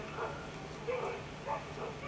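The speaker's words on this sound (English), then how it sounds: "The dogs are barking." Distant dogs bark in short, faint bursts across the open-air archaeological site at Gordion, a few spaced yaps over quiet outdoor background.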